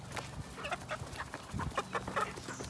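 Chickens cluck close by in a farm coop, a quick run of short, overlapping clucks and murmurs with no talking.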